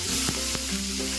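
Fish sizzles and crackles in hot oil in a pan, a dense frying hiss with a few sharp pops, close and alone without talk.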